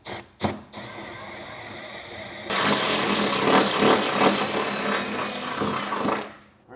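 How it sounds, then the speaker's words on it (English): Power drill running hard through metal, stepping up bit sizes to enlarge holes for gooseneck hitch U-bolts on a 2024 GMC truck bed; a few short bursts, then one long steady loud grinding run. "we're going to start working our way up in bit size just to enlarge that hole big enough to get these U-bolts through"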